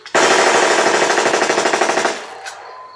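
A long, loud burst of rapid automatic gunfire rattles for about two seconds as a sound effect in a horror audio drama, followed by a brief single echoing crack and quiet.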